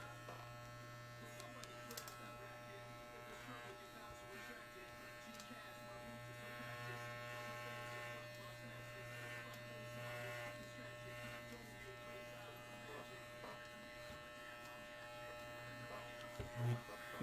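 An electric trimmer buzzes steadily and fairly quietly while shaving down fur on a bunny fursuit head so it blends toward the back. The hum holds a constant pitch throughout, with faint handling noise and no clear speech.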